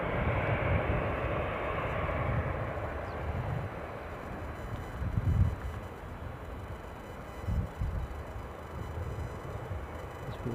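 A KLM Boeing 737 airliner at Edinburgh Airport heading back to Amsterdam: a distant, fairly faint, steady jet rumble with gusts of wind across the microphone and no talk.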